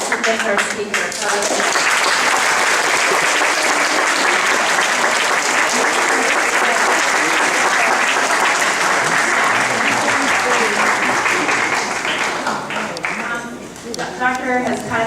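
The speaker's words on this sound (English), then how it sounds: "Please, a large round of applause to thank our speaker." A large audience gives sustained applause to thank a lecturer after a talk, a thick continuous roar of clapping lasting around fifteen seconds, with a speaker's voice emerging at the start and again as the clapping fades.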